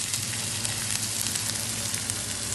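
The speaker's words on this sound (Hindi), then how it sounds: "सबसे पहले हम इसमें डालेंगे अदरक लहसुन का पेस्ट।" Ginger garlic paste sizzles loudly in hot oil in a pan, giving a dense, steady crackling hiss that stays even throughout, with no talking.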